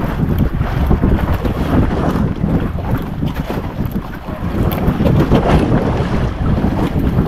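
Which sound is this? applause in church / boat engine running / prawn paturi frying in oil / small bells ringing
boat engine running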